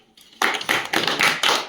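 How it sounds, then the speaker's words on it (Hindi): Clapping in a classroom-style science lesson on wiring a bulb to two cells, a faint pair of taps and then several loud bursts of hand claps in uneven rhythm, close and with no talk over them. "ताली बजा दो।"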